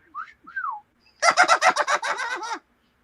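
Bird-like whistling, two short swooping chirps followed by a rapid run of about ten warbling trills, clear and close with nothing else behind it; the whistling sounds like a person imitating birdsong.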